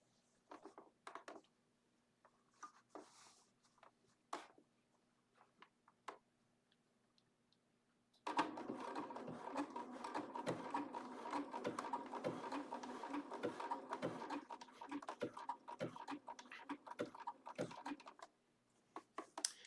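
A Bernina sewing machine stitches wool at a fast, even rattle for about ten seconds, preceded by quiet scattered clicks and handling, close and clear.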